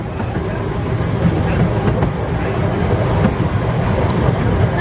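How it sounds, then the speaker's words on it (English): A train rumbling past on a railway line near the old Pottery Loop from Etruria, a steady low roar with faint wheel clatter that holds loud and continuous throughout. "trains still run here. They're more like this."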